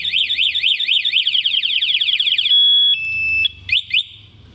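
An Alarm Nine A1 motorcycle alarm on a Honda Beat 2021 sounds loud and close, a rapid warbling siren that shifts to steady tones and brief chirps before stopping.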